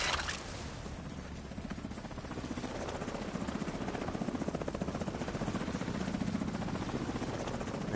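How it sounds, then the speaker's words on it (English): A helicopter in The Division 2 hovers close by, its rotor making a loud, steady rhythmic chop throughout. "They're going to rappel in on their little helicopter."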